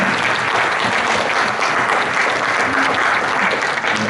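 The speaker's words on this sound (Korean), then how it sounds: "여러분 다시 한번 너무 수고하셨는데 박수 한번 해주시면 감사하겠습니다." A gathering of clergy at a closing worship service of a retreat gives loud, continuous applause, with some faint voices beneath the clapping.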